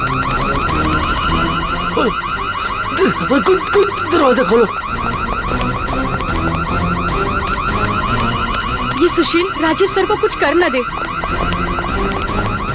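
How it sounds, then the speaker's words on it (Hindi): An alarm from a stuck lift pulses in a loud, rapid repeating electronic tone throughout, while people speak urgently and shout over it. "ये अलार्म कैसा? लगता है लिफ्ट अटक गई है"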